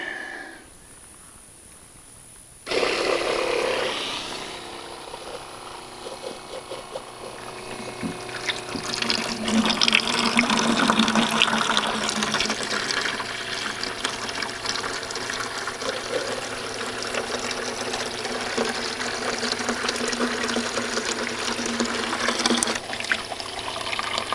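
Water pours steadily through a DIY emergency water filtration system built from buckets, a continuous splashing, trickling flow that starts abruptly after a quiet moment and stays loud and close throughout.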